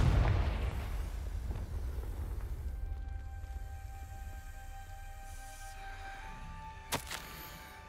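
A Confringo blast curse goes off in a Harry Potter video game, a deep booming explosion that rumbles and slowly decays over several seconds, followed by a faint ringing tone and a small sharp crack near the end.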